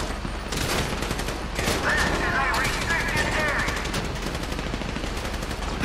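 Gunfire rattles through a shootout in Grand Theft Auto 5, with dense overlapping rifle bursts and fusillades running continuously and loudly throughout.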